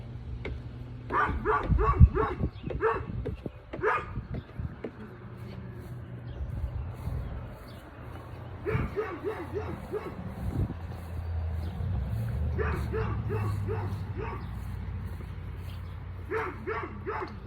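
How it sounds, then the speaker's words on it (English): Several neighborhood dogs bark repeatedly in bursts, moderately near, with pauses between volleys over a steady low background hum in a garden. "The neighbors' dogs are excited for the bees too, I guess."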